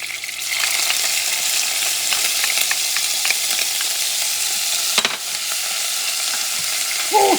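Onions sizzle in a pot of sofrito flavored with ham for a Puerto Rican white bean stew, a steady close crackle with light stirring knocks and a brief clunk near the end, no talking.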